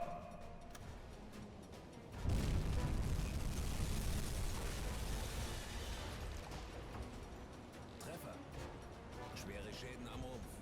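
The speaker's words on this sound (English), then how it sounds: "we got 1 hit there on that C3, which has now taken 2 torpedoes" A torpedo strikes a C3 cargo ship in the submarine game UBOAT: a sudden loud explosive burst at about two seconds, then a long rumbling roar with creaking, grinding mechanical noise that slowly fades.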